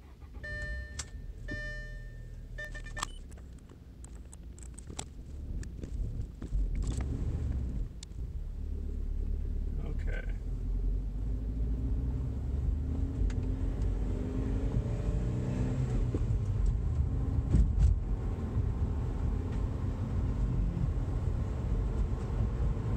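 Audi A4 B7 fitted with 034 street motor mounts driving on a street, with a low engine and road rumble heard from inside the cabin, a few chimes and clicks at the start, and a steady drone after that.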